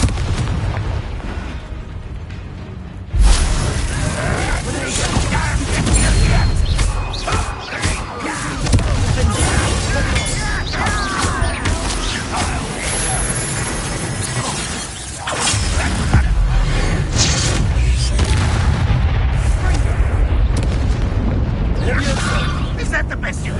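Blasting spell explosions and shattering impacts from Confringo in Hogwarts Legacy, a dense run of loud bursts and crashes under music and combat voices, with a sharp hit near the start and another surge midway.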